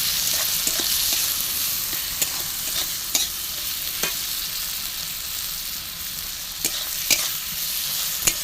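Garlic, onion and tomato masala with ginger, turmeric and chilli powder sizzles steadily in a pan for a duck egg curry, with sharp scraping clicks of a spoon stirring it at irregular intervals.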